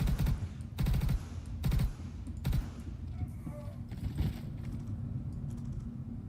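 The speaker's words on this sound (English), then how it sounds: "I can hear gunfire to the left." Gunfire in the Star Citizen video game, several rapid bursts of automatic fire in the first half, then scattered fainter shots and game noise, with no talk.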